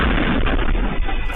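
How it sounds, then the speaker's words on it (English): Van explosion recorded on a CCTV camera, a loud, harsh boom with a dense blast of noise that fills the whole moment and fades slightly at the end. "Nearby CCTV captured the boom."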